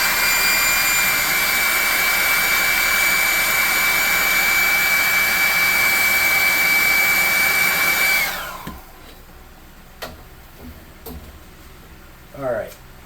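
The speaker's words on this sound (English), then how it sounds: "We're going to hit it with a hairdryer" A hairdryer blows loud and steady on a handmade craft sleeping mat for a tabletop game, its whine holding for about eight seconds before cutting off, then a few faint clicks and handling noises follow in a quiet room.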